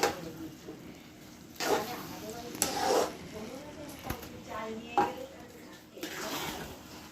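Basanti pulao being stirred in a pot on a low gas flame, with intermittent scraping and rustling of rice under a faint background sizzle, in a few short bursts.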